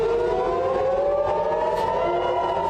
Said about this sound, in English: Air raid sirens wailed in Tel Aviv